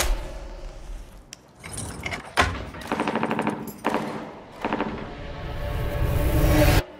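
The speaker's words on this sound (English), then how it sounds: "Do you hear that? We're close gunshots." Automatic gunfire in a film trailer about an armed terrorist attack comes as several loud, rapid bursts separated by short pauses, with heavy reverberant impacts between the volleys.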